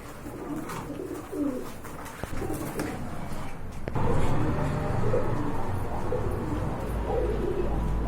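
A pair of Rajgolla pigeons in a breeding loft coo repeatedly in soft, throaty, rhythmic calls, close by, over a steady low background rumble with a few faint chirps from other birds.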